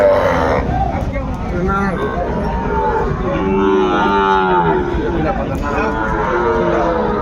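Cattle lowing at a busy livestock market in Mymensingh, with Sahiwal bulls and calves for sale; several long, loud moos overlap one another against a steady crowd babble and nearby voices.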